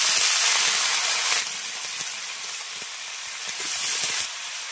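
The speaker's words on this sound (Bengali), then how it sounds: "আলুটাকে একটু ভেজে নেওয়ার পর এর মধ্যে দিয়ে দিচ্ছি কেটে রাখা ডাঁটা আর পাতাগুলো" Stems and leaves hit hot oil with frying potatoes, giving a loud steady sizzle that swells and eases in waves, with no talking.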